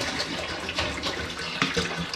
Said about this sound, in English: I'm going to get 4 litres of spring water into my big saucepan